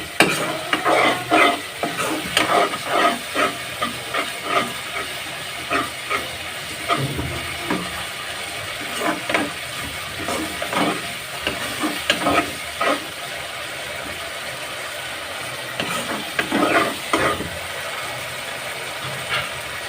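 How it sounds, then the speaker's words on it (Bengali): Koi fish bhuna frying in a pan while a spatula stirs and scrapes it, giving repeated scraping strokes over a steady sizzle. The sound is close and continuous, with no voices. "ভালো করে কষিয়ে নিতে হবে।"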